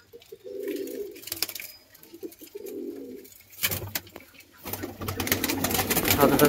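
A pair of Andhra pigeons gives two clear, throaty coo phrases up close. Louder clattering and rustling noise builds toward the end.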